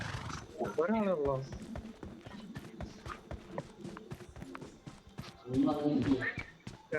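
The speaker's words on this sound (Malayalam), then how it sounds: "രണ്ട് കുതിരയുടെ സ്വരം കേൾക്കാണേ." Horses galloping in the BGMI video game, quick clip-clop hoofbeats and a whinny, heard under near-constant talking from players.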